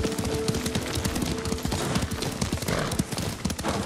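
A horse ridden in the Ghost of Tsushima video game clip-clops in a brisk, steady rhythm of hoofbeats, close and moderately loud, with no talk over it.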